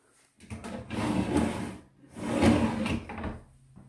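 Bathroom vanity drawers in a stack of three deep drawers slide open and shut twice, each a close, hollow rumbling wooden slide with a soft knock at the end.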